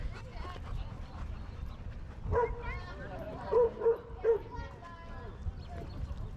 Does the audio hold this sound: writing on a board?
no